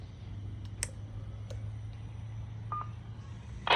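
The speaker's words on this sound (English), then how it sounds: "So you hear the repeater kick back" A portable 12v or 110v GMRS repeater in a Ryobi case kicks back after keying up, giving faint short clicks followed by a brief burst of electronic beeping tones at the end over a low steady hum.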